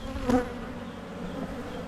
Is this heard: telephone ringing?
no